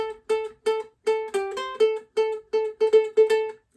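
Ukulele melody, played at a beginner's pace: a steady run of short plucked notes in even rhythm, close and clear, with a brief quicker flourish in the middle and no talking.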